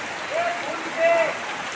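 Monsoon rain falls steadily as a broad, even hiss, with two brief tonal whistles rising over it.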